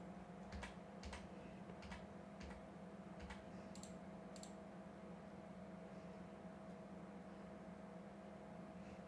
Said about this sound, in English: My keyboard is way too loud, said DG.